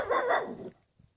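A dog gives a single loud, close bark followed by a brief faint grunt.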